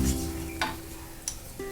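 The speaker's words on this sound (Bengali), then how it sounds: "দিয়ে মশলাটা ভালো করে এর মধ্যে আমি কষিয়ে নেব।" Ground turmeric, coriander, cumin and chili powders with salt sautéing in a pan for cholar dal, a low steady sizzle with a couple of brief scraping stirs.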